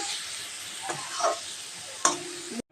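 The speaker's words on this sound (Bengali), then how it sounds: "এটা ভালো করে নেড়ে দেব নিম পাতা আলু আর বেগুন" Neem leaves, potato and brinjal stirred while frying in oil in a pan, soft sizzling with a few sharp scraping clicks of the spatula against the pan, quiet and close.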